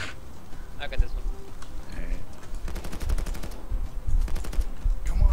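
Gunfire in Payday 2: rapid automatic bursts crackle in two main volleys amid scattered single shots and game effects, fairly loud and close, with a few quiet clanks between the bursts.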